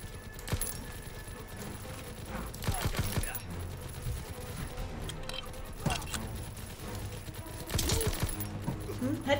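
Gunfire in the World War II shooter Call of Duty WW2, with sharp shots cracking in scattered bursts over a busy game mix, while a player's voice is heard now and then.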